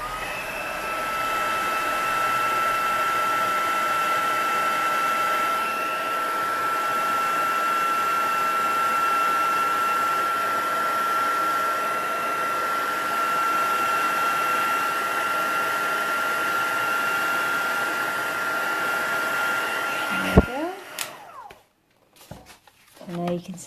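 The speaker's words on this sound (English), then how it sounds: "And then again, I'm going to dry this with my heat tool." A heat tool blows steadily for about twenty seconds to dry watercolour paint on a card, a loud continuous whirring hiss with a faint whine, then it cuts off and is followed by brief handling clatter.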